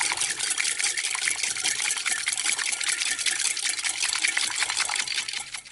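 Horchata made with sugar and hot water is stirred by hand, giving continuous rapid liquid swishing and light clinking, close and steady with no talking.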